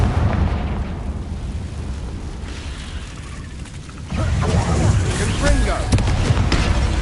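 A Confringo explosion spell in the Hogwarts Legacy video game sets off booming blasts and bursting pops, with a sudden loud surge partway through over dense battle noise.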